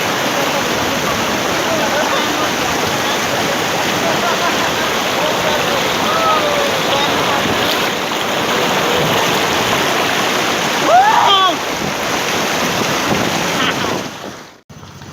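The Shera Khola mountain stream rushes in a loud, steady broadband roar that fills the whole stretch before dropping away at the end.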